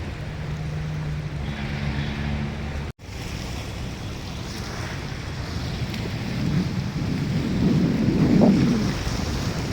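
Surf pounding against a shore at the far end of a beach at Dolomite, a loud, continuous wash of breaking waves that swells and rumbles toward the end, with a brief dropout near the start and a low tonal hum early on.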